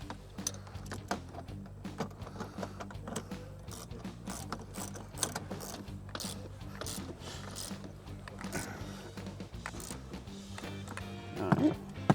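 A ratchet wrench tightening the rear bolts of a Z1 Off-Road seat riser, a steady run of close, sharp clicking pawl strokes with light handling noise.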